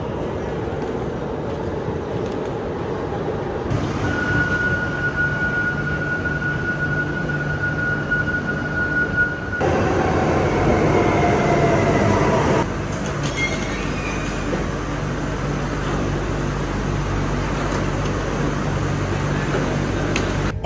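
Inside a clean commuter train in Spain heading to Torremolinos, a steady loud rumble of wheels and motor with air-conditioning hiss, occasional squeals and shifts in tone as the car rolls on.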